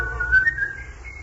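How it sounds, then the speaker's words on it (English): A man whistles a short, steady tune in a radio drama, a clear, loud single melodic line lasting about a second. "He whistled as he thought of the gold that he had"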